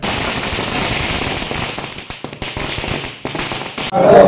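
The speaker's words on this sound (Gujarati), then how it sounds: "ભવ્ય આતશબાજી પણ કરવામાં આવી રહી છે" Dense, rapid crackling of celebratory firecrackers going off in a continuous rattling burst, with sharper individual pops toward the end; loud and outdoors in Vasedi village, Chhota Udepur, Gujarat, for a political candidate's nomination.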